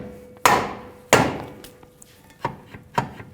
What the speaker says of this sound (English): use a soft face mallet and hit the end